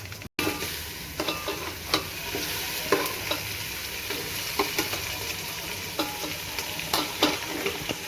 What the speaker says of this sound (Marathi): मस्त चिकन परतून घेऊ आपण